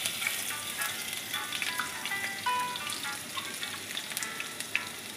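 Garlic paste frying in a pan of oil, a soft, steady close sizzle with scattered pops and crackles throughout, fairly quiet and uninterrupted.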